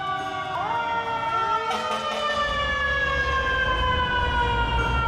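Several fire truck sirens in Cities: Skylines wail at once, altered by mods. Their rising and falling tones overlap loudly and steadily, with a low rumble underneath.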